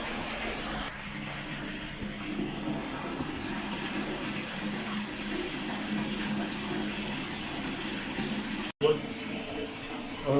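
Steady broadband rush of water running from a tap in a bathroom, constant and fairly loud for the whole stretch, with a brief dropout near the end; no talk over it.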